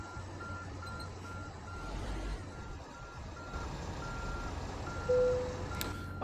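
A truck in American Truck Simulator reverses to park a trailer, its steady rhythmic backup beeps sounding over a low engine rumble, ending with a brief hiss and a clunk.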